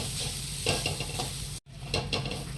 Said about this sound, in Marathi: खोबरं टाकून घेऊया त्याचा ओलसरपणा जाईपर्यंत आपल्याला छान त्याला हलवत राहायचं आहे